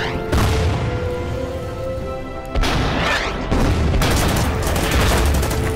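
A unit fires in the strategy game Order of Battle: Pacific, a few heavy booming blasts with long ringing decays, loud and layered over a steady musical background.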